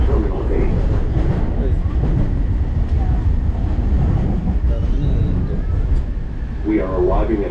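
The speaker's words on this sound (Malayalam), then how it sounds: "Thank you for riding Air Train. Our next stop will be Terminal 8." A JFK AirTrain pulls into Terminal 8 with a steady, loud rail rumble and rhythmic clatter of the cars throughout, while a recorded voice speaks over the noise.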